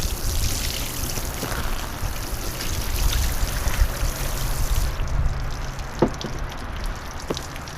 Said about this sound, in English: Start rinsing him off, rinse the table off.